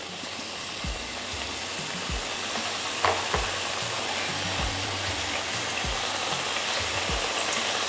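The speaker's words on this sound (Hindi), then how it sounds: "तो चलिए अब हम अपने खुरमा को तल लें।" Sugar-coated khurma dough pieces deep-fry in hot oil, a constant, even hiss of bubbling with soft low knocks now and then, heard alone without speech.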